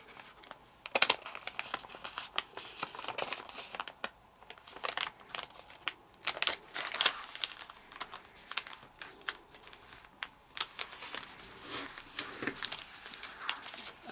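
Origami paper being folded and creased in half gives repeated crisp crinkles and sharp paper snaps, close and fairly quiet, with no talking.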